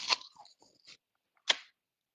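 Two sharp, crisp crunches of teeth biting into a fresh apple, close and fairly loud, the first followed by brief chewing, then a pause before the second bite.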